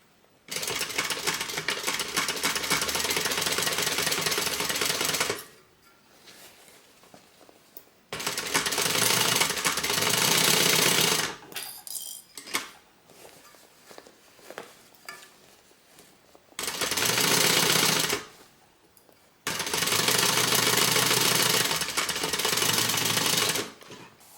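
A sewing machine runs in several bursts of rapid, steady stitching as it closes the bottom seam of a handbag, each run a few seconds long, separated by quiet pauses with small handling clicks and fabric rustle.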